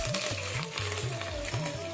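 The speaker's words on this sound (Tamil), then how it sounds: "முதலே தாளிசத்துக்கு ஏற்ற மாதிரி நம்ம கடுகு போடுகிறோம்" Mustard seeds and curry leaves sizzle steadily in hot tempering oil, a close, continuous frying hiss with a few faint pops, and no voices.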